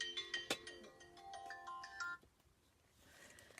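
A phone ringtone plays a bright, repeating melodic pattern of quick tones, fairly close, and then cuts off and leaves faint background noise.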